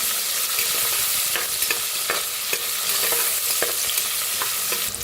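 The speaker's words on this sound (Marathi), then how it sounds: "त्याच्यात टाकूया कांदा, त्याच्यात टाकूया कढीपत्ता, भाजून घेऊया।" Onion and curry leaves fry in oil with toasted cumin, mustard seeds and a pinch of asafoetida for masale bhaat. The sizzle is a constant close hiss, broken by scattered clicks as a spoon stirs.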